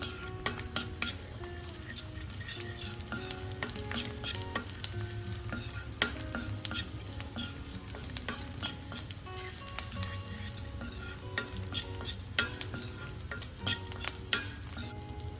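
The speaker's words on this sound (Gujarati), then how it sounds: "એક ચમચી જે ગુંદર છે એ એડ કરીશું અને ગુંદરને આપણે થોડો ફૂલવા દઈશું" Edible gum (gond) fries and puffs in a pan over a low flame, a steady dense sizzle with crackling pops and occasional stirring scrapes and utensil clinks throughout, close and continuous with no talking.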